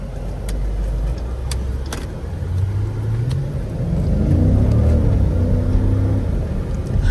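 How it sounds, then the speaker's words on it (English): Road traffic passing around a 2021 Jeep Grand Cherokee L, heard as a loud, continuous low engine rumble with rising revving tones and occasional ticks, no voices. "Yeah, I'm surrounded by cars."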